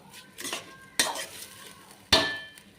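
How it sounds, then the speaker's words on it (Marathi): Rice sautéed in oil for Khandeshi masala khichdi: three sharp clanks of a spoon against the pot, each followed by a short sizzling scrape, near and distinct, with no talking. "तांदूळ छानपैकी तेलात परतून घ्यायचे, म्हणजे खिचडी मोकळी येते"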